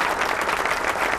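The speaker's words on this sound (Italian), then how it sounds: "Un applauso ancora a R. Crescentini." Brief burst of dense applause from an audience at a fashion show in Ancona, a steady, full wash of clapping heard alone.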